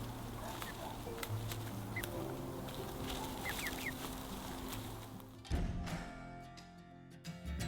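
Chickens on an off-grid Welsh homestead make soft chattering clucks and faint calls over a steady low hum, ending with a sharper thump and quieter tail.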